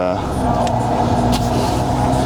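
A supercharged car drives on the road, its engine a steady, loud drone that continues throughout beneath someone talking.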